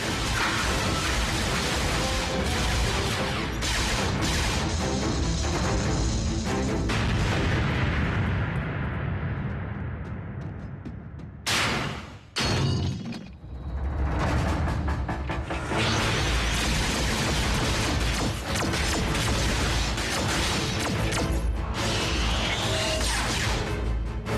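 Loud, continuous blasts and booming explosions from the animated series Transformers Prime fill the stretch, with a brief drop midway before the heavy barrage resumes.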